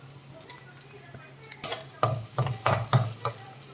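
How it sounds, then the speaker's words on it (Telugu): Garlic frying in a pan for a chicken curry, with sizzling and a spoon stirring and scraping against the pan, the clatter building louder in the second half. "వెల్లుల్లి ఎర్రగా ఫ్రై అవ్వాలండి."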